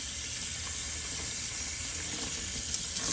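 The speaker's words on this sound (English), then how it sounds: "I know, the water's running." Water runs steadily from a tap to rinse a shaving brush, a continuous close hiss and splash that holds for about three seconds.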